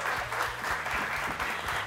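Audience clapping at a gospel singing show, a brief burst of moderate, evenly sustained applause from a modest crowd, heard at a middle distance.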